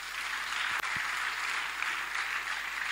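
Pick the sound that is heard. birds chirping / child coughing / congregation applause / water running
congregation applause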